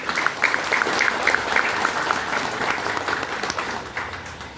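Applause for Barkun at a mujahadah gathering in the PT. RBI Cilacap office, a steady wash of clapping from a crowd that holds for several seconds and then begins to taper off.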